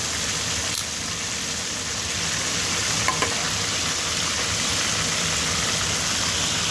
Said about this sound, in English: look at this sizzling on a low medium